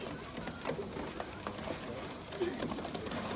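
Imported English tippler pigeons coo softly amid a constant wash of background noise, the birds' calls low and intermittent rather than prominent.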